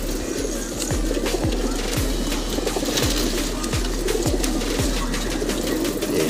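Racing pigeons at a club loft, a steady coo-like hum under repeated sharp wingbeat flutters and clatters as birds take off and circle, fairly close and continuous with no talk.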